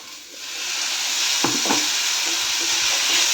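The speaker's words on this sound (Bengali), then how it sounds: "আমি যতটা পারবো উপর থেকে এই সুইট কর্নগুলো কিছুটা দিয়ে দেবো, যদি কিছুটা ফ্রাই হয় তো খুব ভালো।" Sweet corn kernels fry alongside homemade pasta in refined oil, making a loud, steady, close sizzle broken by a couple of quick spatula scrapes partway through, with nobody speaking.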